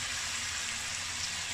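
Water splashes into a pan of braised pork belly cooked with dry chili and sets off a steady, even sizzling hiss that lasts unbroken from start to finish.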